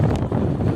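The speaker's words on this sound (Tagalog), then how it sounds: "lakas ng hangin." Strong wind buffets the microphone with a loud, continuous low rumble at a traditional boat race on open water, steady for under a second with no voices.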